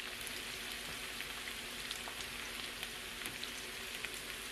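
Cabbage frying in a pot, a steady close crackling sizzle with scattered small pops, continuous and fairly quiet with no voices.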